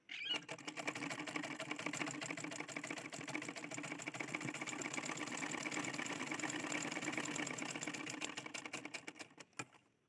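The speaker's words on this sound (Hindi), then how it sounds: "इसमें डबल सिलाई लगाऊंगी, आप चाहो तो एक ही सिलाई लगा सकते हो" Sewing machine stitching a double row of seams on a double-bowl blouse, a fast, even mechanical rattle running steadily close by, then easing off at the end.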